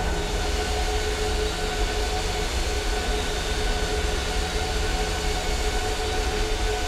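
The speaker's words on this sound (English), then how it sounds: "Here we are, taxiing out onto the runway." Steady, loud engine drone from a Southwest Boeing 737-700 taxiing in the Flight Simulator X game, a continuous hum with no change and no talk.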